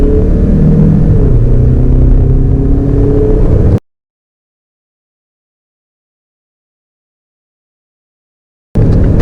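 A 2022 Mazda CX-5 2.2 diesel accelerates at full throttle with a loud, close, steady engine rumble that grows as it pulls. The sound cuts out abruptly for several seconds, then returns.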